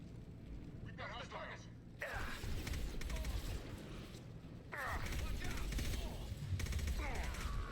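Bursts of rapid gunfire and mechanical clatter from a Mass Effect 2 firefight with Blue Suns mercenaries and Vorcha, coming in dense, sustained volleys that swell after a quieter opening stretch.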